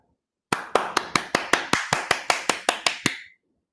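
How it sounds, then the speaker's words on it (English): Hands clapping right in front of a microphone: about thirteen crisp, even claps in a quick steady rhythm, loud and close, in silence otherwise with no talking. "Now I'll show you with an example of clap."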